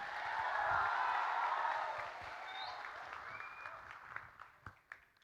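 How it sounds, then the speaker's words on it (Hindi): Loud applause from a crowd for three speakers at a gathering, a dense wash of clapping that swells, holds, then thins into a few scattered claps at the end. "ताली है सबके लिए।"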